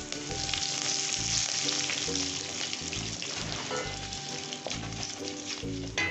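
Curry leaves crackle and sizzle hard in hot oil with chana dal and dried red chillies, a loud, busy frying hiss with sharp pops, no voices.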